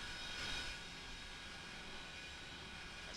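A military C-17 cargo plane takes off from an aircraft carrier in New York with a steady, distant jet engine roar that swells briefly near the start and then holds at a constant drone.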